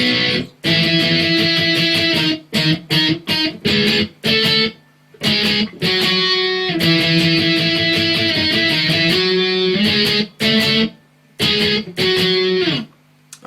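Distorted electric guitar plays the intro riff of a song, loud punchy chords in a quick stop-start pattern with short abrupt breaks between stabs, no voice.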